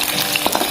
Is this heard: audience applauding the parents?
no